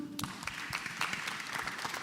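Applause for a school captain's congratulations at a youth Sunday church service, a crowd clapping with distinct sharp individual claps over a dense wash, moderately close and fairly quiet.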